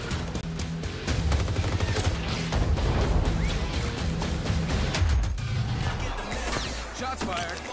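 Dense, continuous gunfire rattles through a montage of video game trailers shown at a games awards ceremony, with sharp bursts and impacts layered over a loud, busy mix of effects and score.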